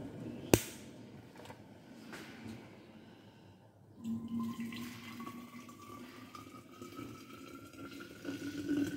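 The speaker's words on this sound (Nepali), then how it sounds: "म यो पानीलाई थर्मसमा लाउँछु" Hot water is poured into a thermos after a sharp initial clink, the stream building into a steady gurgling fill whose pitch rises slowly as the vessel fills.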